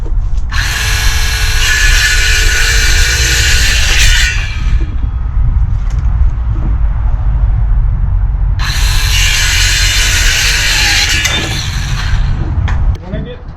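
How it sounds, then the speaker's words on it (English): A power tool cleans up small pieces of wood for a cheap jon boat camera mount, running in two loud, steady bursts of about four seconds each with a quieter gap between them. "I'm gonna clean these pieces of wood up so it's a little prettier."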